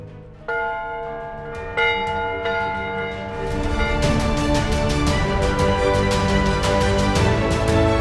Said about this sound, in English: Let the bells ring.